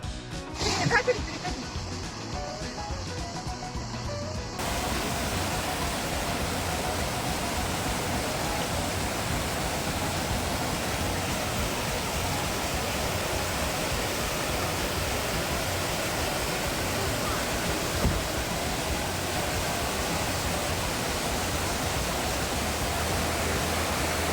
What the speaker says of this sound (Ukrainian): Оце є річка Білоус.